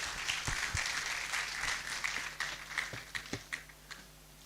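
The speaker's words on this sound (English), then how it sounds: "Let's welcome him with a round of applause." A small crowd at a school of optometry white coat ceremony applauds in a soft, dense patter that thins toward the end into scattered separate claps, fairly distant and moderately quiet.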